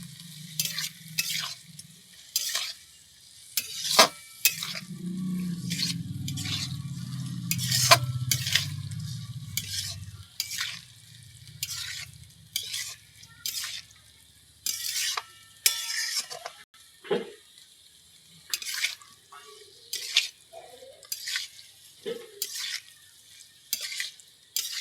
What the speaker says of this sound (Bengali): এবার হালকা করে আমি নাড়ছি।